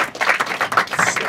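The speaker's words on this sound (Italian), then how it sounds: "Qui abbiamo il nostro amico Benito Rosario, a cui farei un applauso" A brief burst of clapping from an audience at a civic project presentation, several hands beating in an uneven patter at close range for just over a second.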